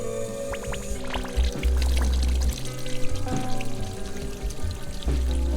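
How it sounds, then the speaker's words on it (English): Water is flushed through the heater core of a 1995 Ford F-150, gurgling and pouring in uneven bursts with low sputtering surges and splashes, close by. "Let's go ahead and purge the heater core now."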